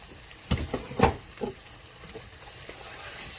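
Blended panch phoron spices for a hot chilli pickle hit hot oil in a pan, giving several short sizzling bursts and crackles, close and fairly quiet, with no talking.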